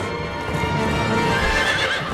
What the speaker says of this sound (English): May these horses bear you to better fortune, our former masters.